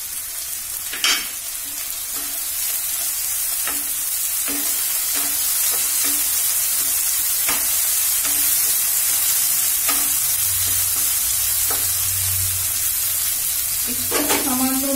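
Chopped tomatoes hitting browned onions in a pan for spicy Bengali prawn kosha, giving a loud, steady sizzle with occasional sharp spatula scrapes and taps, close up and without speech.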